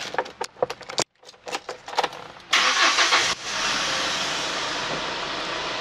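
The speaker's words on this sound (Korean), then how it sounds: "시동 한번 걸어볼게요." Keys jingle and click in the ignition of a Hyundai Porter 2 truck with about 60,074 km on it. The starter cranks briefly, then the engine catches at once and settles into a steady idle.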